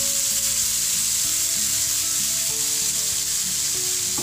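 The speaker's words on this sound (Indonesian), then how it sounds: "Ini untuk menumis bumbu yang sudah dihaluskan tadi." Ground spice paste sautés in hot oil with a loud, steady sizzle and crackle that fills the whole stretch, close up and with no talking.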